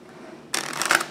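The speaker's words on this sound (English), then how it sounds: "shuffling the cards like that" A deck of playing cards is shuffled once, a quick sharp burst of riffling flutter that starts abruptly after a quiet moment and runs to the end.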